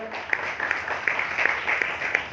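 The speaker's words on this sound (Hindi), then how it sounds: "तो मैं चाहूंगा जोरदार तालियां इस संस्था के लिए हों।" An audience at a university talk show claps together in a hall. The applause is loud and steady, with rhythmic, slightly synchronized claps lasting a couple of seconds.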